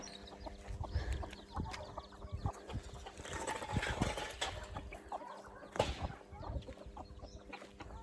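Chickens cluck and murmur nearby in an irregular stream, with occasional louder squawks and some shuffling noises.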